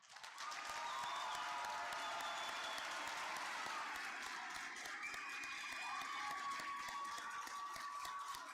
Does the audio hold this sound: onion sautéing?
no